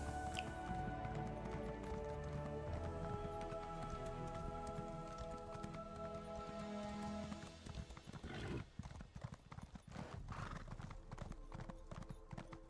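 Steady clip-clop of horse hooves in The Elder Scrolls Online, rhythmic and continuous, with a faint whinny and rain-like patter in the background; no one speaks.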